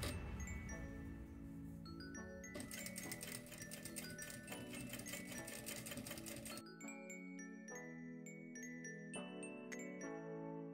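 A sewing machine runs steadily, stitching along the edge of a table runner with a fast, even mechanical chatter, pauses briefly, then starts up again, close and clear with no talk.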